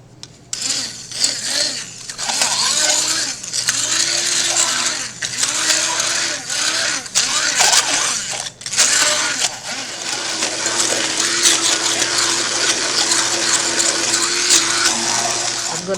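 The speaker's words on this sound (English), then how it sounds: "with the help of a hand blender we are going to do a paste" A hand blender whirs in repeated loud bursts, then runs steadily, as it mixes tangerine juice and sugar into a paste in a kitchen.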